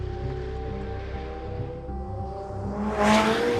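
A McLaren 720S engine hums at a steady low idle, then swells into a brief rising rev near the end, heard close and clear with no talking.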